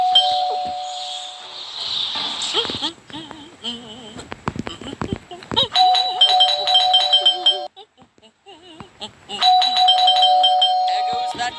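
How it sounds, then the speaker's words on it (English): Doorbell in the video game Scary Teacher 3D, a repeated electronic chime that rings in loud bursts, pausing and then sounding again, with a person talking during the gap. "There goes that stupid bell again."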